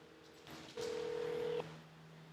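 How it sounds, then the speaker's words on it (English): A Tesla Model 3 places a phone call, giving a single clear dialing tone of under a second over a quiet background hum, alone with no talking. "now make a phone call"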